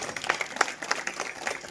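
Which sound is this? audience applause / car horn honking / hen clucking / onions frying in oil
audience applause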